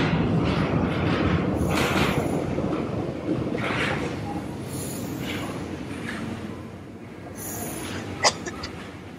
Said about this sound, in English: First subway.